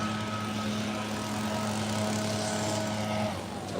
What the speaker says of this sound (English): I'm gonna walk right towards the guy with the blower